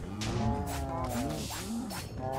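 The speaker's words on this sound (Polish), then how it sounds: "Krowy w MC Dungeons. Mu kurwa!" Cows in Minecraft Dungeons moo loudly, several drawn-out, overlapping calls sounding one after another with little pause.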